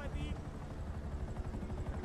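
Helicopter in a GTA roleplay game, a steady low rotor drone that runs through the whole moment, with voices talking over it.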